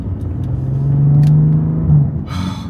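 A 700 hp Enzian Blue BMW F80 M3 engine drones and revs steadily while driving, a loud, sustained low rumble that swells through the middle and eases off near the end, with a brief hiss at the close.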